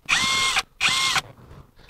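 A WOSAI 20V WS-MD13 brushless cordless drill spinning at its lower first speed: two loud, steady whirring bursts of about half a second each, separated by brief pauses, with a third starting at the end.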